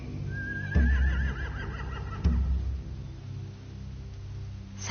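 Horses neigh and whinny in a descending, wavering call near the start, with low thuds and a second short burst of noise midway, against a steady low rumble.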